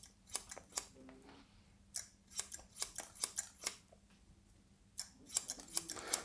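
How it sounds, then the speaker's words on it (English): Scissors snip through hair over a comb during a haircut, giving quick, sharp, close metallic clicks in irregular bursts with brief pauses between runs. "So again, we're going for that scissor cut here."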